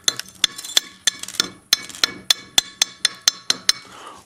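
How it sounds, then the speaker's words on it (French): A small chipping hammer knocks welding slag off two arc-welded steel plates: about fifteen sharp metallic taps in a steady, close rhythm, each a bright clink, with no talking. "on prend le petit marteau pour casser ce laitier"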